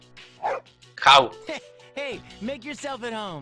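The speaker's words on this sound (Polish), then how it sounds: "Man, you're one loyal dog." Koro-chan, a dog in Persona 3 Portable, gives a few short yips and barks between lines of spoken dialogue, clear and close.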